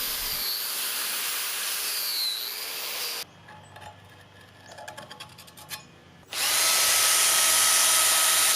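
A wire wheel on a power tool cleans a van steering knuckle, a loud high whirring grind that stops for a few seconds of quieter handling noise, then resumes even louder.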